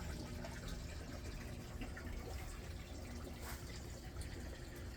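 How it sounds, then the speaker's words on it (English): Water flowing out of a pipe from an aquaponics fish tank, a faint continuous splashing trickle with no talk. "The water comes out here."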